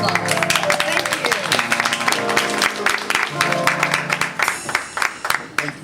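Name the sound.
audience applause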